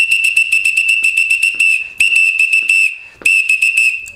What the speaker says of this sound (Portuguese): Apito pedindo repique.